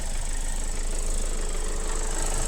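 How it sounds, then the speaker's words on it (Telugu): A 2023 Hyundai Creta E diesel engine idles steadily, a smooth, even low rumble with a faint mechanical tick, close and constant throughout. "ఇంజన్ సౌండ్ కూడా సైలెంట్ స్మూత్ ఉంది సార్"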